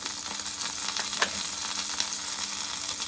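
Green chillies and curry leaves fry in hot oil with urad dal and cumin for a bitter gourd fry, giving a steady close sizzle with a few sharper crackles and pops, no talking.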